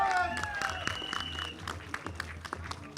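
A trailer-launch audience applauds for actor Mukesh Tiwari, a steady patter of many hands clapping at moderate distance, with a host's amplified voice briefly over the start.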